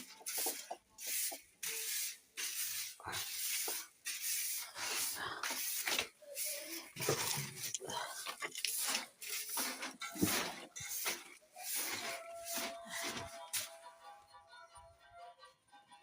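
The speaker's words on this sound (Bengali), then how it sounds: "এই ঝাঁট দিয়ে দিচ্ছি, একটু ঝাঁট দিয়ে দিই" A broom sweeping a floor, a series of short, regular scratchy strokes close by, quiet overall, thinning out toward the end.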